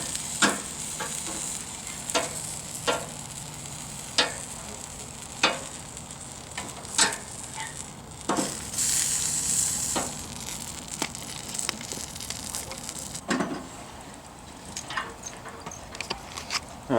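Bratwursts sizzle steadily on a grill over medium-low heat, a constant frying hiss broken by sharp clicks and clunks as they are turned with tongs, close and without talk.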